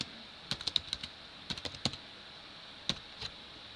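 Keys on a computer keyboard clatter in short bursts of quick taps with pauses between, close and fairly quiet, with no talking.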